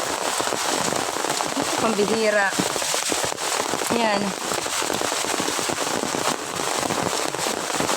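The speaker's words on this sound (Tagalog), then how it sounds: "Super lakas ng ulan ngayon." Heavy rain pours steadily in a mangrove, a dense continuous hiss filling the whole stretch, with a person briefly talking over it.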